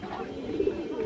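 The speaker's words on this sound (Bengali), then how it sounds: "এই দেখেন লাল বারালা সাপচিলা মাদি।" A female red Barala Sapchila pigeon gives a brief, soft, low coo close by over faint background noise.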